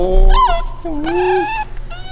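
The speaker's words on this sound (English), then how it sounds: "Doggy! This one wants attention." A dog gives a string of high, wavering whimpers and whines close by, rising and falling in pitch in two drawn-out bursts followed by softer fading whines.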